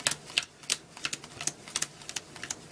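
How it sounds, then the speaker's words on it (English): Playing cards peeled one by one off the bottom of a deck, a quick run of light, crisp flicks and snaps close to the ear, steady and unhurried. "Start peeling off cards from the bottom."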